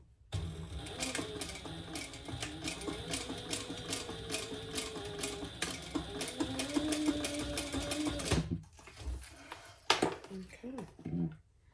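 Sewing machine running in steady bursts of rapid mechanical stitching while sewing two rows along a sling bag strap, fairly close and continuous for about eight seconds before stopping, followed by handling clatter.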